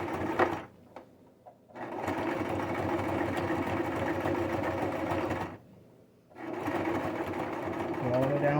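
A sewing machine runs a zigzag stitch along fabric for a face, neck and ear warmer, finishing with a backstitch at the end. Its close, steady whir comes in long runs, with two brief pauses where the motor drops away.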